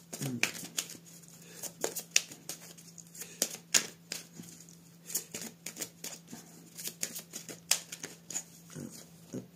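Oracle cards are shuffled and cut by hand in a quiet room, giving soft irregular flicks and riffles in short bursts with faint pauses between, over a low steady hum.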